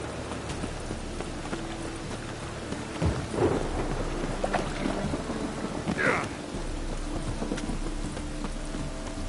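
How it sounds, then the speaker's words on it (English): Steady rain pours throughout in the video game The Witcher 3, with low thunder rumbling around the middle and another rumble a few seconds later. "And it's raining again"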